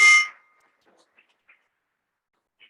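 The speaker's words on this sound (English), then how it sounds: "for those who wonder what this bell ringing is" A single bright hand bell rings once at a club meeting, a short clanging strike that dies away quickly and is followed by faint small ticks in near silence.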